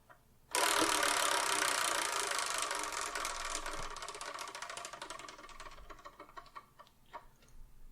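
A spinning selection wheel starts with a sudden rush of rapid clicks from its ratchet. The clicks slow and spread out over several seconds as the wheel coasts to a stop, with no voices.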